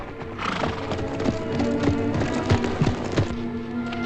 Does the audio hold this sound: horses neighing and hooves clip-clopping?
yes